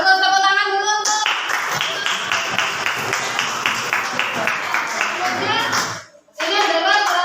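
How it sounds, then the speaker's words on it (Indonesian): A classroom of students in an Indonesian lesson breaks into dense, lively applause lasting several seconds before it stops abruptly, with children's voices mixed in. "Sudah bagus, tepuk tangan dulu untuk."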